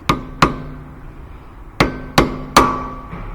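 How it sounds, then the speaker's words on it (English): Five sharp metallic hammer strikes on a punch, recrimping the axle nut on the rear wheel bearing assembly of a 2017 Subaru Impreza, arriving in an uneven rhythm with ringing decays, close and clear with no talk. "Take you a punch, recrimp it. That way it can't back off."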